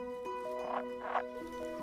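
A northern pool frog croaks in a short run of several nasal calls spaced unevenly, close and clear over a faint background with no voices.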